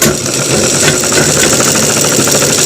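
A sewing machine stitches a welt pocket, giving a steady, close mechanical whirr with fine rattling and vibration that runs continuously without pause.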